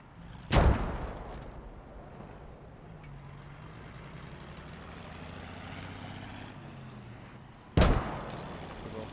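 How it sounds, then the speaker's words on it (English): Mortar rounds firing in the WWII shooter Post Scriptum, two sharp, loud reports several seconds apart over a low droning battlefield rumble. "The guys who are firing mortars are not doing too bad of a job"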